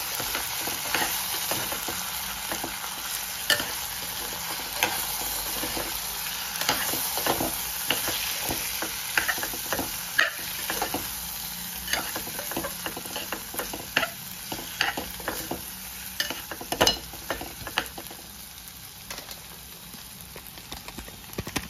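Fresh cashew bhaji being sautéed and stirred in a pan, with a steady close sizzle broken by irregular scraping and clacking strokes of a spoon against the metal, no voices.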